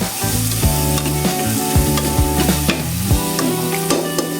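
Tomatoes sautéing in a pan for pork sinigang, a loud steady sizzle with repeated scraping stirs cutting through at irregular intervals, no voices.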